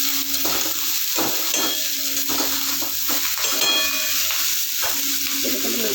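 Lati, taro stolons with a pinch of sugar, frying in a pan while being stirred, giving a steady crackling sizzle broken by repeated spatula scrapes and soft knocks against the pan.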